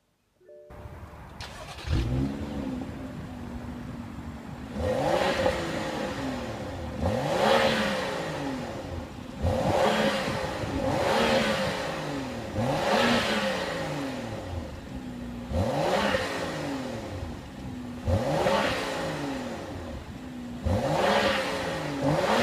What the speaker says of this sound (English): Now to start the engine